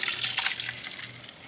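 Oats mixture is poured slowly into a greased slow cooker, a soft continuous wet sloshing hiss that swells briefly and then eases off, close and moderately quiet.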